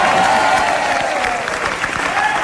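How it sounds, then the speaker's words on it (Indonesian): A television studio audience applauds a blind singer's performance, a short burst of dense clapping with some voices mixed in. "Tepuk tangan sekali kita Pak."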